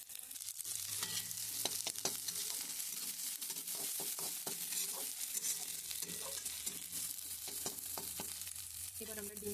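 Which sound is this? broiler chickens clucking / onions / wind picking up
onions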